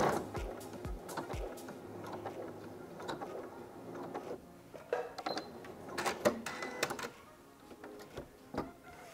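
An Elna sewing machine stitching on a button, quiet mechanical ticking and whirring in short bursts with sharp clicks from the automatic thread cutter, close and fairly faint.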